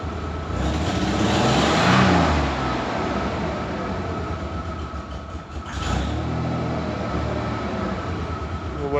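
Ford Bronco engine idling right after new spark plugs, plug wires and a coil, a steady close rumble throughout with a brief swell near the start and a sharper change around six seconds.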